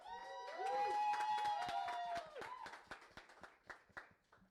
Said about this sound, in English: I think we've got a better applause than that